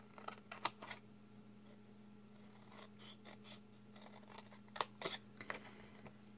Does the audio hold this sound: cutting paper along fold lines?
yes